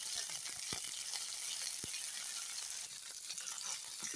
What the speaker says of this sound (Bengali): ধনে পাতা একসাথে ভেজে নেব।